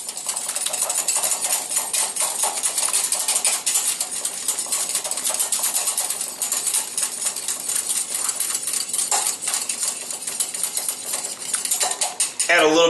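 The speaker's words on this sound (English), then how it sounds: "I'm going to mix this until it gets a little bit of a froth to it." Egg whites being whisked with chili powder in a bowl until frothy, a fast continuous clatter of utensil against bowl that stays steady and close throughout.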